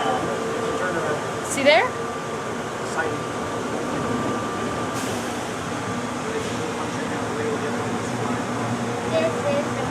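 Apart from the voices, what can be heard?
Atlanta airport Plane Train automated train stopping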